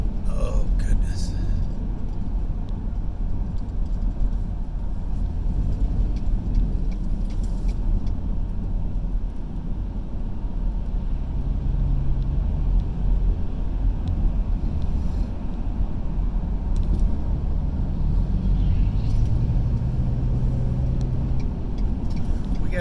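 Inside a car driving on Lawrenceville Suwanee Road on a Sunday, a low steady engine and road rumble fills the cabin, with faint passing-traffic swells.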